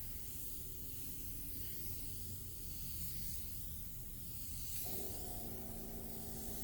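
Spray gun applying a coat of Kandy tequila yellow paint to a Mooneyes moon disc, a steady close hiss of atomized spray that swells and eases in sweeping passes, with a pitch change near the end and no talking.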